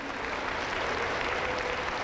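A Pentecostal church congregation claps together in a dense, even burst of applause that fills the room from start to finish, with no voice over it.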